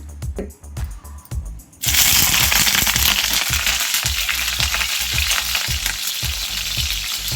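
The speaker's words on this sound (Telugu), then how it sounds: "ఇట్లా పెట్టుకుని మనం ఆయిల్లో ఫ్రై చేసుకుందాం" Banana flower buds drop into hot oil for deep frying: a quieter first two seconds, then a loud, steady crackling sizzle that carries on to the end with no voices.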